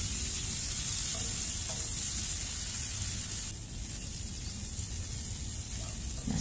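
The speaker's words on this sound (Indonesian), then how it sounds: "Setelah tanak, kita masukkan irisan cabai. Lalu tumis kembali hingga semuanya matang dan tanak." Sliced chili stir-fried in a pan for a shrimp and potato dish, giving a steady loud sizzle throughout with a slight drop in intensity midway and faint scraping of stirring.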